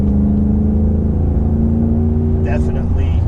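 A Ram 1500 pickup with a Flowmaster Flow FX exhaust accelerates with a loud, steady low rumble and a rising engine drone, heard up close with no talking over it.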